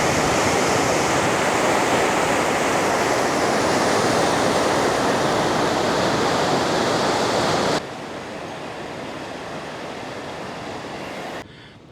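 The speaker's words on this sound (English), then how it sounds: "There's a bit of a current in the old Siem Reap River coming straight down here and to there." Steady rushing water of the Siem Reap River current flowing fast in Cambodia, a loud, even broadband roar that drops abruptly to a quieter wash partway through, with no talking.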